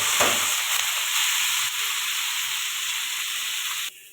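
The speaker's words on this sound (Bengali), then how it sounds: "এঁচোড়টা একটু ভালো করে ভেজে নেব" Young jackfruit, already boiled, fries in hot oil with salt and turmeric, giving a loud, dense, unbroken sizzle and hiss heard up close and without talk, which cuts off abruptly at the end.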